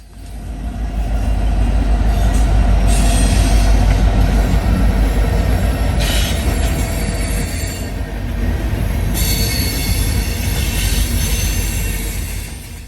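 Norfolk Southern freight train with EMD SD70ACE locomotive NS 1101 mid-train rumbling past close by, a loud continuous roar of wheels and cars with high metallic squeals rising and fading throughout.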